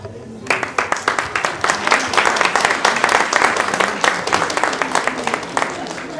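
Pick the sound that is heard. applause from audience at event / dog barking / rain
applause from audience at event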